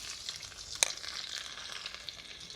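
Asafoetida and garlic hit hot oil for a watermelon rind curry, a faint continuous hiss of frying broken by one sharp crackling pop near the start.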